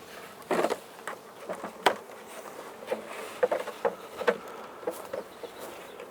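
Honey bees from a collected swarm buzz close by in a busy hum around a hive brood box, with soft wooden knocks and taps scattered throughout.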